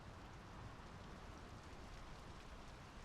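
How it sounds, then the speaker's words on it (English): Steady rain pours down in the video game Draugen, set on a 1920s Norwegian fjord: a dense, continuous hiss of drops on surfaces, even and unbroken, with no voices. "The rain's picking up."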